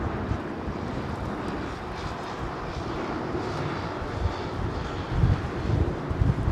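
A DHL 300 jet climbing away after a quick departure from Heathrow, its engines a distant low roar that swells slightly toward the end, with some wind buffeting.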